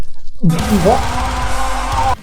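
A loud, dense burst of heavy distorted metal music, a breakdown with pounding low-end chugs, cutting in abruptly after a short sliding tone and stopping just as suddenly.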